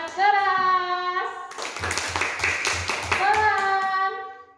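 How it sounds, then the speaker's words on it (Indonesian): A classroom of children claps hands loudly in a dense burst of rapid claps lasting a couple of seconds, framed by a voice before and after. "Tepuk tangan keras."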